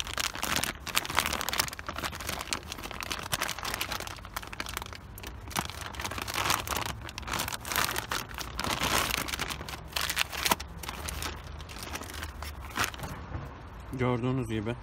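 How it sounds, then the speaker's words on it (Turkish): Plastic bag crinkling and tearing open during a Honda Accord K20 transmission mount replacement, a long run of crisp rustles and crackles near the microphone, with someone talking at times. "Poşeti açabilirsem."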